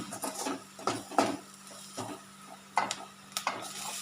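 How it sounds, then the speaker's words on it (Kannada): Capsicum that has been roasted is stirred together with grated coconut in a pan, giving scattered soft scraping strokes and light clinks of a spoon against the pan, with a faint steady hum underneath. "ಇವಾಗ ಮೆಣಸಿನ್ಕಾಯಿನ ಹಾಕೋಣ ಅದರಲ್ಲಿ ಹುರಿದಿಟ್ಟಿದ್ದು ಮೆಣಸಿನ್ಕಾಯಿ ಇತ್ತಲ್ವ ಅದನ್ನು ಮಿಕ್ಸ್ ಮಾಡೋಣ"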